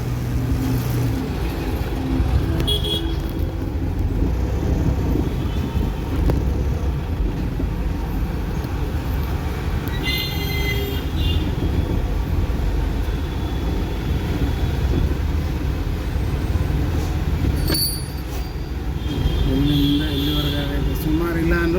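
A traffic jam sits on Andrahalli road while a big vehicle makes a turn, bringing a steady heavy engine drone with idling motors, a few horn beeps and a person talking throughout.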